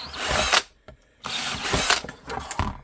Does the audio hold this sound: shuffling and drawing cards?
no